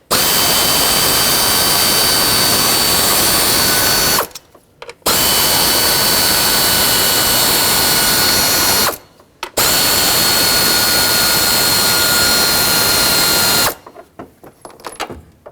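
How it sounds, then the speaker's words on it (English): Power tool or ratchet driving an 8mm socket to remove ignition coil bolts on a Ford Flex, a loud steady whir in three long bursts separated by brief pauses. "Now we have to remove the 3 ignition coils. Use an 8mm socket."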